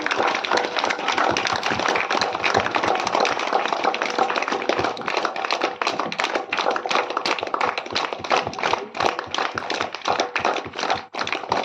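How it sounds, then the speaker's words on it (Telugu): A church congregation at a Marian rosary celebration claps loudly and continuously, a dense, steady patter of many hands filling the space with no voices above it. "అందరూ గట్టిగా చప్పట్లు"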